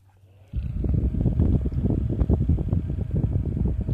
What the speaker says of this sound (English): It's a little, it's actually a pretty quiet fan.